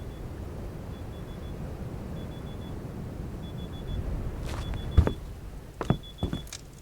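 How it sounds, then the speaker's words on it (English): An alarm in a ranching game beeps in short, evenly spaced tones about once a second, faint over a low rumbling background, with a few louder clunks near the end. "That's my alarm. Telling me I've got to get up to go to work"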